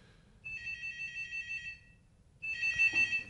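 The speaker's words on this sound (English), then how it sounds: "Suddenly, the phone rings." A telephone at a regional administration office in western Ukraine rings twice with an electronic warbling tone, each burst about a second and a half long with a short gap between, close and clear against a quiet room.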